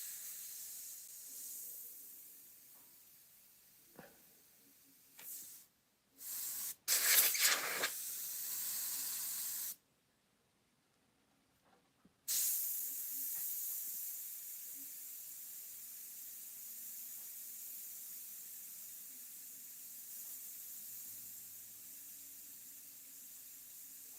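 Airbrush spraying opaque paint for flame and firewood artwork, worked up close at higher air pressure: a steady airy hiss that swells in short bursts and cuts off completely for a few seconds before resuming as a continuous spray.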